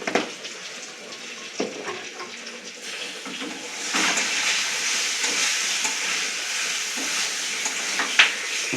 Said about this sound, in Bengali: পুরো সবজিটাকেও একসঙ্গে খুন্তি দিয়ে নেড়ে নিচ্ছে।